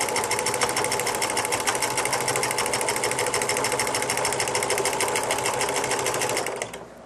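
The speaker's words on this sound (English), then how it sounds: "I have the Project Runway PC420 by Brother." A Brother Project Runway PC420 sewing machine runs a princess seam, its fast, even needle chatter loud and close for about six and a half seconds before it winds down and stops.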